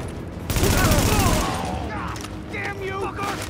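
Sustained automatic gunfire in Tom Clancy's The Division, a dense loud burst of rapid shots that carries on under continuous game sound, with a person exclaiming over it.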